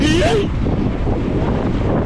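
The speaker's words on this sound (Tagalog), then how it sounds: "Nakapalit nito ay malakas na hangin na." Strong wind batters a boat at sea in bad weather, a continuous loud roar of wind noise across the microphone. A brief voice-like tone is heard at the very start.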